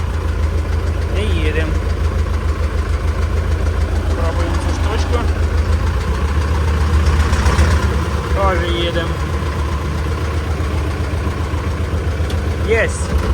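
A T-40 tractor engine runs steadily while driving, a loud, continuous low chugging throughout, with a voice talking over it.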